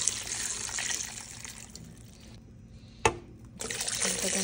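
Water pours steadily into a cooking pot holding tulingan fish with calamansi juice, a rushing splash that thins, pauses, gives one sharp clank, then resumes, close and fairly loud.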